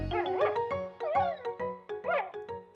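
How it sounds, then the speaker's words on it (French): Snuffy, a small cartoon puppy, yips and whimpers in a rapid series of high, pitched little barks and whines, close and clear with no talking over it. "Snuffy, la petite chienne."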